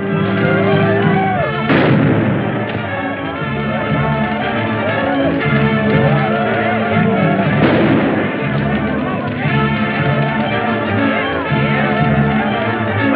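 Gunfire in a 1947 Amazon jungle adventure film, with two sharp reports standing out over a dense, continuous bed of music and noise.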